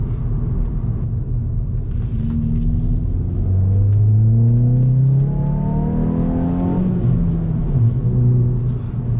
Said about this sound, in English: when you change gear you can hear the revs hanging